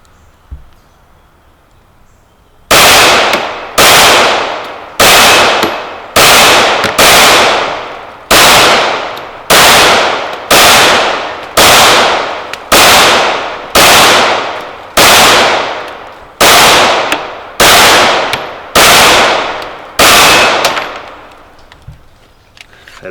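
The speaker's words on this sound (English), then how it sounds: "So this one I'll just shoot it double action," A Rex Zero 1S 9mm pistol is fired outdoors in a steady string of about fifteen loud, sharp single shots, each with a decaying echo, evenly paced after a brief quiet start.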